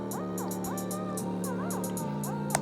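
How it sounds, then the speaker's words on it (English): A programmed hi-hat pattern with a bouncy, swung rhythm ticks over a quiet beat with sliding synth tones, crisp short hits repeating steadily and fairly soft. "the thing with hi-hats is you want to make something that has bounce to it"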